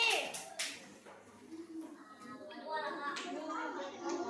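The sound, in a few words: classroom children clapping for group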